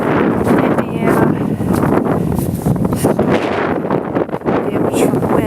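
Strong wind roars continuously into the microphone outdoors in the aftermath of a windstorm that toppled a hunting tower stand, loud broadband buffeting throughout with gusty surges and no speech.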